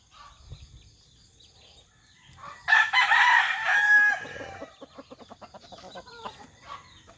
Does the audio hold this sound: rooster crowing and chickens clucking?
yes